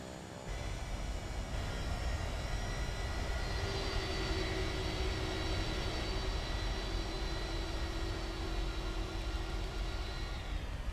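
Steady aircraft engine drone in Microsoft Flight Simulator 2024, a continuous loud hum with layered tonal whine that rises in pitch partway through as the plane sits at a small airport before a short-runway takeoff, no talk over it.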